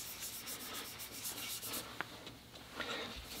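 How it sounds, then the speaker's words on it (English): A fingertip rubs rottenstone and finish into a wooden surface, making a faint, continuous soft scratching and rubbing with a few light taps, heard close up in a quiet room. "then I'm going to put my finger in that finish and then in the rotten stone, and then we're going to start rubbing"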